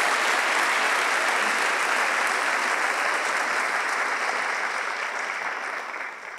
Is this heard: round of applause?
yes